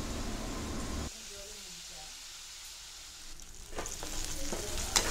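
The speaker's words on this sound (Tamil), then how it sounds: "தேவையான அளவுக்கு உப்பையும் ஆட் பண்ணிவிட்டு இதை நல்லா வதக்கி விட்டுடலாம்" Garlic and shallots sautéing in oil with salt for a spicy chutney, a soft close sizzle that drops quieter after a second, then picks up again with stirring scrapes toward the end.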